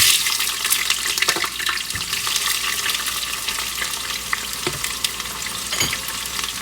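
Onions hit hot oil and spices in a pot for one-pot chicken biryani, a loud hissing sizzle that runs continuously, with a few stirring knocks and scrapes, no voices.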